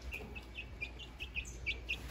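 Easter Egger chicks give a run of high, thin chirps at a steady pace, soft and fairly close in a quiet room with no talking.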